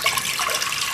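About one and a half cups of water poured into a pressure cooker holding beef and onions for biryani, a brief steady splashing rush of liquid with no voices.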